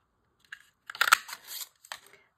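A one-inch craft punch snapping through 80-pound craft cardstock, a few short crisp clicks and crunches close by, grouped in quick bursts with brief pauses.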